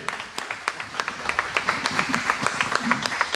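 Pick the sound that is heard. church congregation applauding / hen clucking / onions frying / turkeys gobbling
church congregation applauding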